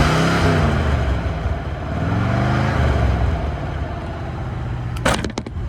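An old Plymouth TrailDuster SUV, revived after sitting dead, idles with a steady, loud rumbling engine note that swells slightly in the middle, with a brief clatter near the end.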